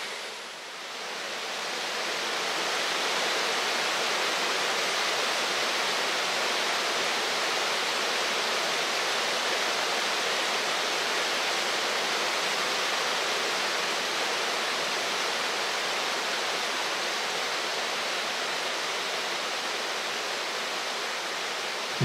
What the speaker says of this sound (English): It's an even more impressive waterfall than the first cascade on the right